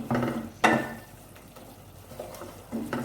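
A spoon stirs and scrapes masala frying in oil in a pan over a raised flame while khatti dal is being made. There are a few clanks against the metal and a soft sizzle between them, with no talking.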